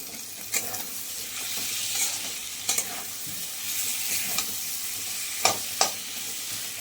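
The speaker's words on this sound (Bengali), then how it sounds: "এবার মশলাটা কষানো হতে থাকে।" Spice paste with tomato sautés for a mutton curry, giving a steady sizzle and fry under repeated spoon scrapes and stirring clicks in the pan, close and continuous with no voices.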